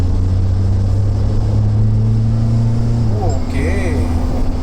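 A Mahindra Scorpio-N diesel automatic pulls hard under full throttle, its steady low engine drone heard from inside the cabin while someone talks over it.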